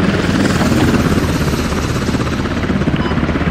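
A military helicopter in the tactical shooter game Squad, its rotor and turbine drone loud and close, a continuous thudding whir with a steady low pulse and no voices over it.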